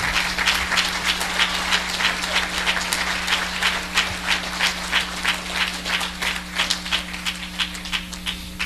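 Audience applause at a church event in Ghana honoring a pastor's guest, dense continuous clapping from a sizable crowd with a steady electrical hum underneath, no voices.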